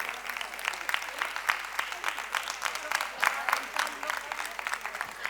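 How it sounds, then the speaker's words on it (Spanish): Audience applause at a talk marking 25 November, a dense, steady patter of many hands clapping throughout, fairly close and moderately loud. "Un aplauso a Juan."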